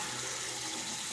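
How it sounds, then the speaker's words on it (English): Cold tap water runs steadily from a faucet during a Tatra Platinum razor blade review, a continuous close hiss of flowing water with no pauses, alone and without talk. "I'm running that tap water"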